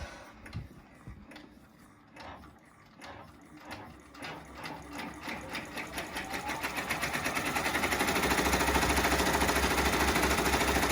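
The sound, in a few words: embroidery machine stitching a zipper bag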